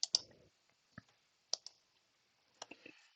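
A handful of separate keystrokes on a computer keyboard while a command is typed at a command prompt, close and fairly quiet, with uneven pauses between taps.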